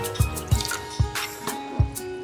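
Water dripping and splashing in uneven bursts into a blender holding cashews, onions and yogurt, close and fairly quiet.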